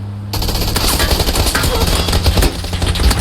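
Rapid automatic gunfire in the video game PUBG rattles continuously and loudly after a brief quiet start, sustained bursts of shots in a game-like soundscape.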